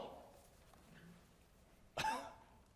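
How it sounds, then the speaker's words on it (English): A single sharp cough breaks a near-silent background, loud and close, after a few faint murmurs. "You cough again."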